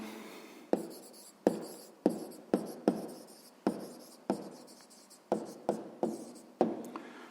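A pen scratches out a sixth-grade math answer in a quick run of about a dozen short, crisp strokes, close and alone in a quiet room.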